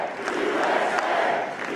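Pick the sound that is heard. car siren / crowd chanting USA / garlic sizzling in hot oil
crowd chanting USA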